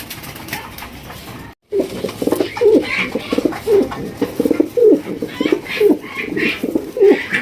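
Pair of pigeons of a coloured Rajgolla type, cooing repeatedly in close, rhythmic bursts of low throaty calls, with a faint voice and brief pauses between phrases.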